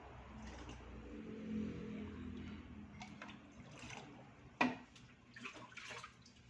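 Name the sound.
aquarium water being poured out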